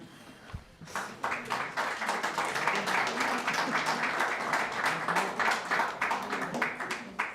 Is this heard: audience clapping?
yes